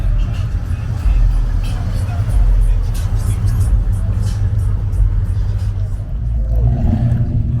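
Car engine rumbling and revving loudly at a Southern California car meetup, a deep sustained roar with crowd chatter and voices in the background.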